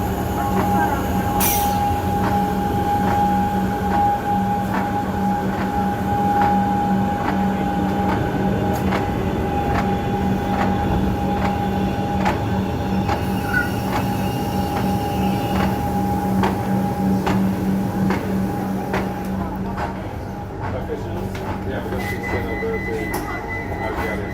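A Melbourne suburban train runs along the Craigieburn line, heard from onboard as a continuous loud rumble of wheels and motors with steady rail clatter, a faint whine and a persistent tonal hum throughout.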